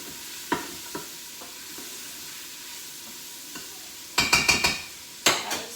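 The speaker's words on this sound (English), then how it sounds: "I'm going to give that a stir after this potato" Potatoes and vegetables are stirred while sautéing in an Instant Pot, a soft sizzle beneath sparse utensil scrapes that turn into a quick cluster of clattering stirs near the end.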